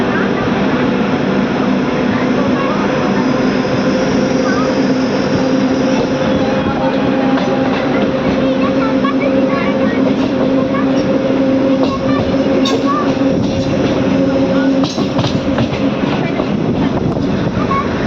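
A DEMU train runs on the Kurnool City–Guntakal line just after leaving Malliyala station, giving a loud, steady rolling rumble and hum close by for the whole stretch, with faint metallic rattles and brief squeals.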